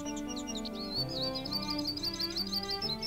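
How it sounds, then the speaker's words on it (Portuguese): Birds sing at dawn, bright repeated chirps and warbling phrases, close and clear over a soft sustained musical background, with no one speaking. "o canto dos pássaros"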